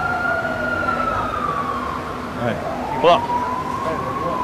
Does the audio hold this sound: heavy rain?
no